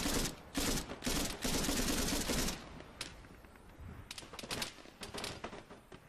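Bursts of automatic gunfire aimed at a helicopter dropping off troops in the military video game Arma 3, several loud rapid volleys first, then sparser, quieter shots and distant fire.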